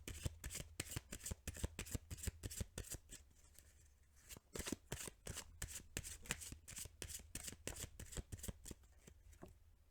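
Kipper cards being shuffled: a rapid run of crisp riffling flicks, close and fairly quiet, with a brief pause near the middle before the shuffling resumes, no talk.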